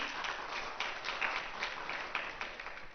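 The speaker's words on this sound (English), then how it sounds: "please give a round of applause for him" Applause from a conference panel audience rises after a deputy prime minister is introduced, a soft, continuous patter of many hands that sounds somewhat distant and muffled.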